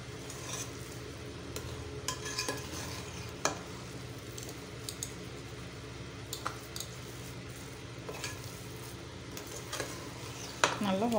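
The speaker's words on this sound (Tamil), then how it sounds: "நெய் ஊற்றிட்டு நல்லா" Pongal mix of saamai millet and vallarai being stirred with ghee in a pan, a steady soft scraping and squishing with faint sizzle running throughout, occasional utensil clinks near the end.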